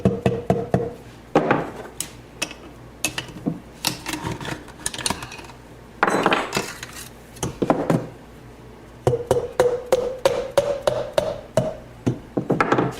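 Pistons for a 1973 Honda CB750 are tapped into the cylinders through a piston ring compressor, giving irregular clusters of sharp close knocks and taps with brief pauses, plus a faint rising whine partway through.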